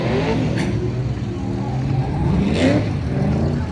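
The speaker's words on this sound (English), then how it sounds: "There goes Sarah and her V6 Mustang." A V6 Ford Mustang drift car accelerates on track at a drift event, a loud sustained engine roar that rises in pitch twice as it pulls away.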